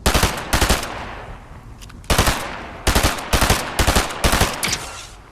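Loud close video game gunfire in a battle-royale match, rapid bursts of automatic shots in clusters of two to four with brief pauses between, crisp and punchy.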